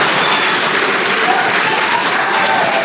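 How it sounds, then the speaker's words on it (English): Loud, continuous applause and cheering from a crowd greeting a SpaceX Crew Dragon spacewalk, a dense steady roar with no pauses, alone and without talk. "I have a feeling the crowd is about to go wild."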